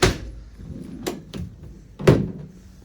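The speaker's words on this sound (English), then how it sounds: "Opening up the rear of the vehicle" The rear door of a 2015 Vauxhall Vivaro 1.6 CDTi long-wheelbase van opens in a series of close, loud metallic clunks and latch thuds, a sharp hit at the start, smaller knocks, then another heavy clunk, with no one speaking.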